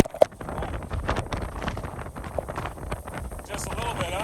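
Wind buffets a microphone on a mountain trail around 2,400 meters near Floe Lake on the Rockwall Trail in October, a steady rushing roar with gusty swells, while a hiker talks through it.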